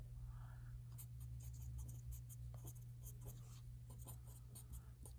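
Pencil sketching quick lines on paper: a run of light scratchy strokes at close range, arriving in short bursts over a steady low electrical hum.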